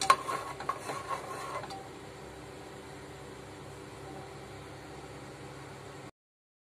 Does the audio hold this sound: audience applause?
no